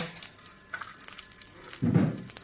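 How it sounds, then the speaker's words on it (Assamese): Ginger and garlic hitting hot oil in a pan for sesame chutney, a soft sizzle that swells into a brief louder crackle near the end. "এই আদা নহৰুখিনি অকণমান ভাজি ল'ব লাগিব"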